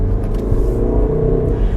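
A 2011–2018 Range Rover Evoque engine, the same unit fitted to a Jaguar F-Pace, revs with a steady, close, deep rumble that swells slightly without a break throughout.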